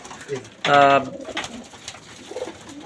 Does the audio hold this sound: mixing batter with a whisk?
no